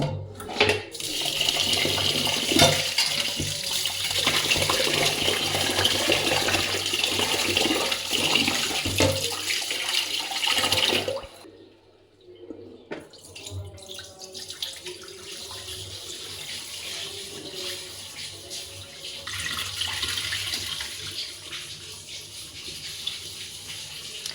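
Rice being washed in water in a home kitchen: a steady loud rush of running water fills the first half, breaks off briefly, then returns as softer swishing and sloshing.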